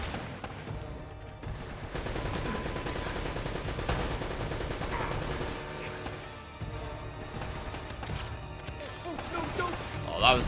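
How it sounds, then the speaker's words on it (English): Gunfire in Uncharted: Drake's Fortune at a fortress, a steady stream of shots and bursts continuing through the clip under a busy game mix, with a voice talking over parts of it. "Okay, now the music stopped, but I still hear shooting"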